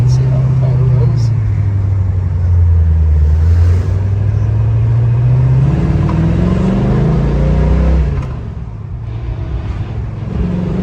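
A 1971 Chevelle SS with a 350 V8 and four-speed pulls out and accelerates, its loud, close engine rumble rising and falling with revs before easing off near the end.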